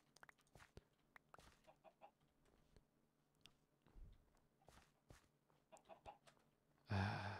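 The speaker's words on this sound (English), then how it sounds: "You're annoying, chicken. Go away." Chicken clucking in the Minecraft video game: short, faint, scattered clucks and chewing-like clicks in a quiet scene, ending in a brief louder burst of noise.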